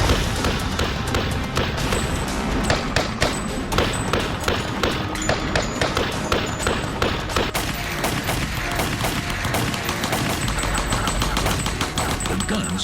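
Rapid machine-gun fire in a reenactment of a mob massacre, dense close bursts of shots with loud cracks and thuds running continuously, a voice faintly present underneath.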